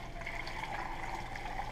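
Salt water poured from a pitcher into a crock for fermenting whole cucumbers, a steady close liquid splash and trickle that continues evenly without pause, no talking.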